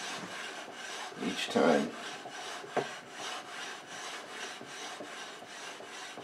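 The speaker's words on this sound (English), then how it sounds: "And then we'll start planing, advancing it just a small amount" Stanley No. 5 hand plane shaving wood, soft rhythmic rasping strokes repeating steadily at close range, with one louder scrape early on and a brief spoken phrase.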